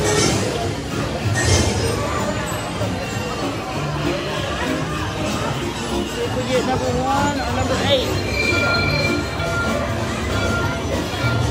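Ride train on Mickey's Runaway Railway rolling along steadily with faint wheel noise, mixed into the babble of a crowd of riders and a Spanish safety announcement heard over the speakers.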